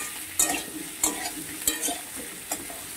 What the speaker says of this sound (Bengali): এটা আদাকে মিনিট খানে কষিয়ে নেব।